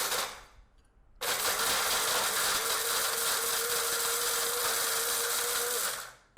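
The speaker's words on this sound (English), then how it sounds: "We'll first grind the red chilies and the coconut" A kitchen mixer grinder whirs loud and steady as it powders fried red chilies and coconut, starting abruptly after a quiet moment, holding a constant high-pitched motor drone, then winding down.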